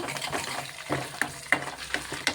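Cumin, garlic and curry leaves tempering in hot oil, a close crackling sizzle with scattered sharp pops and stirring scrapes throughout, no talking.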